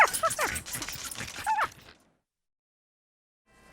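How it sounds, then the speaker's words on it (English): Dogs left shut inside a car on a hot day bark and yip in quick, busy bursts for about two seconds, fairly close and loud, before the sound drops away. "How could someone leave their dog stuck in a car on a hot day like today?"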